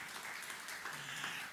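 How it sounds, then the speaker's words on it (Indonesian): A church congregation claps together in a steady wash of applause, fairly faint and distant, lasting the whole moment without a break. "Beri tepuk tangan yang meriah bagi Tuhan Yesus."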